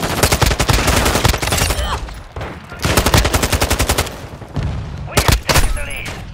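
Modern Warfare 2 video game gunfire, loud rapid automatic bursts with short pauses between them, plus a few sharp single shots near the end.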